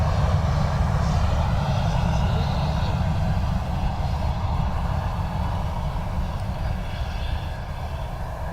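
An Aer Lingus airliner arriving from Paris CDG at Dublin Airport in crosswinds gives a steady, loud jet engine roar that holds for the whole stretch and eases slightly toward the end.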